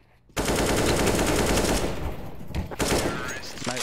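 Sustained automatic rifle fire in CS:GO, a loud, close burst starting abruptly after a brief pause and running almost continuously, with brief chatter in the background.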